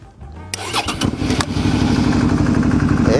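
A Siutu ST 9631 portable tyre inflator starts after a brief click and runs with a loud, rapid, steady mechanical pulsing close by, with no talking.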